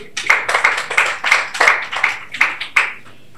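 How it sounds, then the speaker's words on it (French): Rhythmic, evenly spaced claps, about ten sharp hits, from a small audience at a French-language panel on feminist and women's movements. The clapping sounds close and thin, like a few pairs of hands, and it fades after the last beat. "Merci d'applaudir Larissa Koudjoué."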